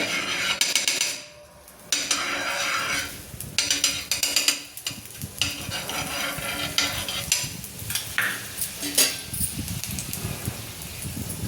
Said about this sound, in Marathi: आता आपण याला छान भाजून घ्यायचं।